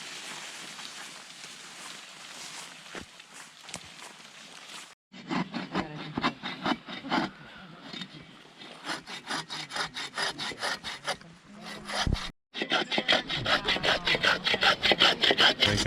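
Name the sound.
breaking and cutting dead wood for firewood in forest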